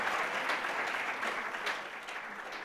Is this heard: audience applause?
yes